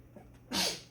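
A single short, sharp sneeze bursts out close by after a quiet moment, loud and breathy, then fades.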